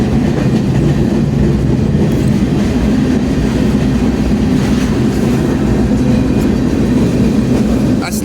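Freight train rumbling steadily from on board, a continuous loud low roll of wheels on rail with faint clickety-clack as it begins moving, no voices.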